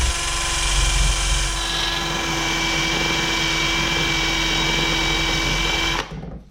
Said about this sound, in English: now I'm going to use this brass wire wheel on the drill just to clean off the surface of these valves